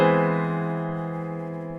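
Augmented major seventh chord voiced in first inversion: one sustained chord struck cleanly and decaying gradually, alone and fairly quiet.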